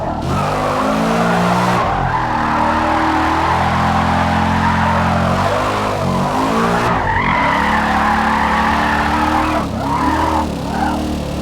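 Tires squeal and skid in long sustained bursts as a car drifts in Forza Motorsport, engine droning loudly underneath with brief dips as the slide shifts, with no talking.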